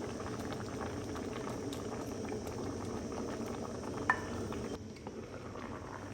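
Pot of mixed vegetables with eggplant, squash and moringa pods simmering at a steady boil, a continuous soft bubbling hiss close by, dropping slightly quieter near the end.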